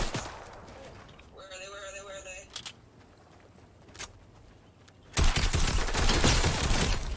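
Fortnite gunfire arrives in scattered bursts: a few sharp shots early, a brief electronic tone mid-way, then a loud sustained fusillade of rapid fire that fills the final couple of seconds.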